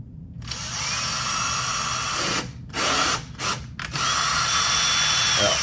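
A power drill drives longer screws into the hinges of a door, its motor whirring steadily, cutting out in a couple of short pauses, then spinning up again close by.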